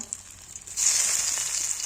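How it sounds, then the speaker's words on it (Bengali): Taro (kochu) fritters dropped into hot oil, a bright hissing sizzle that starts abruptly and then holds steady and loud, preceded by a quiet moment with light clinks. "তো এইভাবে একটু ভেজে নিতে হবে"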